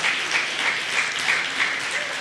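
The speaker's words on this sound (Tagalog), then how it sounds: "Palakpak po para kay Lord." Church congregation clapping during a worship service, a steady dense patter with rhythmic pulses suggesting excited, roughly in-time claps, filling the room without speech over it.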